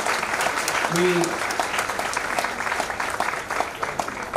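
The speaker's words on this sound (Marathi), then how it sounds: "एकदा जोरदार टाळ्या होऊया" An audience at a celebration ceremony breaks into steady, dense applause that continues throughout, with a brief voice heard early on.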